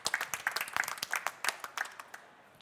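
A small audience at a conference talk claps in a brief, fairly sparse burst of individual hand claps that thins out and fades after about two seconds.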